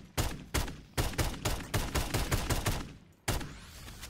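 Three-round burst fire from a Cold War gun in a Call of Duty custom zombies match, with sharp bursts of shots repeating in quick succession, a short pause, then one more burst at the end. The shots sound loud and close, with no talking.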